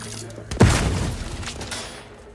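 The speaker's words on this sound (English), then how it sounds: "He threw a grenade at me?" A thrown grenade going off in the sci-fi role-playing game Outer Worlds 2, one sudden low boom followed by a rumbling tail and scattered debris that fades over about two seconds.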